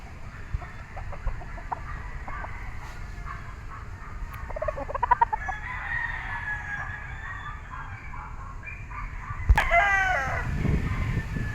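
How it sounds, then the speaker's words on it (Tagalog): A white kelso yellow-legged bull stag rooster at a gamefarm sale crows and clucks, with scattered mid-distance calls through the first half, then a louder crow near the end over steady outdoor background noise. "isang white kelso na yellow legged bull stag"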